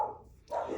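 Two dog barks sound in quick succession, a little distant and muffled, the second louder and longer.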